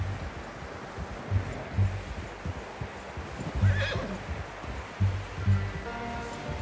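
A horse whinnies once in the middle of the video game Red Dead Redemption 2, with hooves clopping intermittently and a soft rustling outdoor ambience underneath.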